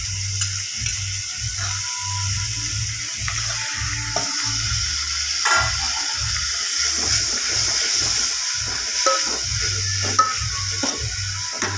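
Tomatoes frying in a pan for a Goan clam curry, with a steady sizzle under repeated scraping and stirring strokes that come in a fairly regular rhythm, close and moderately loud, with no talking.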